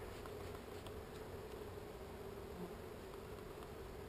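Angry bees swarm at a hive with a faint, continuous, even buzz and no voices.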